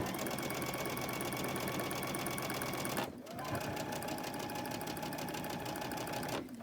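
Sewing machine running steadily while stitching quilt blocks together, a dense continuous mechanical whir that pauses briefly at about three seconds, then resumes before easing off at the end.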